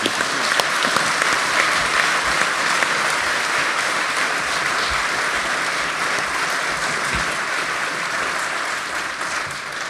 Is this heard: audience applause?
yes